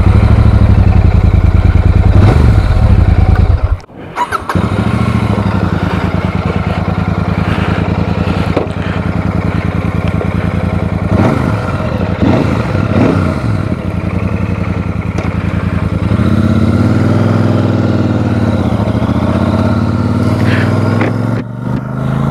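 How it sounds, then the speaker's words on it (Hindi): A Royal Enfield Super Meteor 650 motorcycle engine runs loud and close, cuts briefly, then starts again and settles into a steady idle with some revving and rattling. "अब करते हैं बाइक को स्टार्ट"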